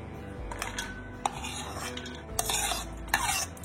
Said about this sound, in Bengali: এবার আলু আমি মাখিয়ে নেব। পেঁয়াজ কুচি, লঙ্কা কুচি